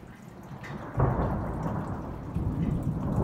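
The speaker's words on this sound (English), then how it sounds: "Oh, come on. No more thunder." Low, sustained thunder rumble swelling at about one second and again near the end during a hail storm, with steady background noise of falling precipitation and no speech.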